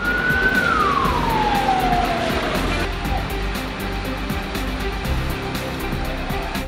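A fire engine siren wails as it responds to a fire, sweeping downward and fading out, followed by steady traffic rumble with no siren.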